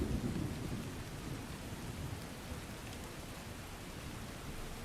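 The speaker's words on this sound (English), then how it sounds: "There's no way to fight a battle in this pouring rain under heavy artillery fire." Heavy rain pours with rolling thunder in the Empire: Total War video game during an American Civil War battle. A dense, steady roar of rainfall runs throughout, with a deeper rumble at the start.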